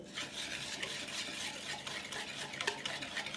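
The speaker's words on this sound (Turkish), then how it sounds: "Bir karıştırıyoruz." A spoon stirring heaped yogurt into a tripe soup mixture, with a soft, continuous scraping and swishing at close range, fairly quiet and with no voices.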